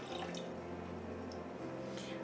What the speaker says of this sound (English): take your 1 cup of water, put that in a pot